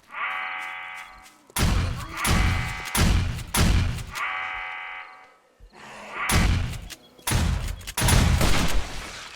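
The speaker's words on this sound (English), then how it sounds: "God, I love those shotguns." Shotgun blasts from the video game 7 Days to Die, a string of loud, heavy reports fired in rapid bursts with short pauses between volleys, close and dominant.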